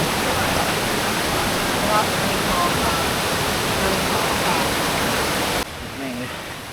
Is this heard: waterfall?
yes